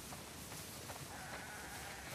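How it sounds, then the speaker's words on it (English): Sheep bleating in The Last of Us Part II, several animals in a barnyard setting, faint overlapping calls over a steady wash of ambient noise. "Wow, that's a lot of sheep."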